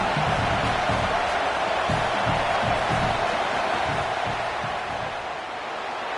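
Football stadium crowd making a steady roaring din during a field goal attempt, a dense wall of noise that eases slightly toward the end, with an announcer talking over it.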